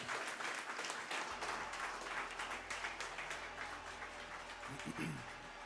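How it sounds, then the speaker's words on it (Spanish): A church congregation applauds together at the first service of the year, a dense, steady wash of clapping from many hands filling the room, with a low musical drone running underneath. "Vamos a darle un aplauso al Señor."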